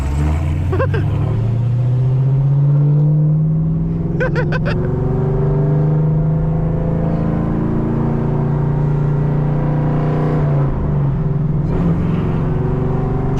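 Six-speed Camaro ZL1 engine pulling hard in a 20 roll at night, a loud steady drone rising in pitch through a long sustained pull, with a brief shift break near the end.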